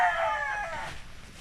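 A chicken in a farm breeding area gives a brief, close, drawn-out crowing call that fades after about a second, with no talk.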